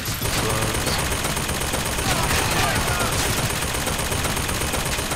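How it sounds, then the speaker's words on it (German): An automated turret in Bioshock Infinite keeps up steady, continuous fire, a dense unbroken rattle of shots holding an even loudness for several seconds with no pause. "Ich lass mal das Geschütz das alles erledigen, ja?"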